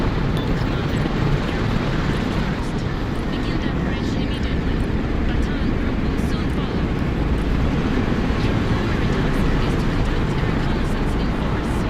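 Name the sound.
helicopter in Broken Arrow video game cinematic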